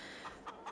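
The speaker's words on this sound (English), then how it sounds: "There's our chickens." Chickens on a farm in Farming Simulator 22 give three brief, soft clucks spaced evenly over a steady hiss, faint and somewhat distant, with no talking.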